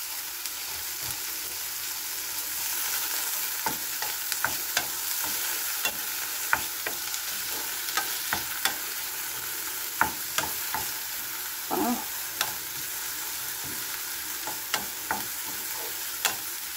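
Tomatoes sauté in a small amount of cooking oil, with a steady bright sizzle and frequent scraping stirs of a utensil against the pan, up close.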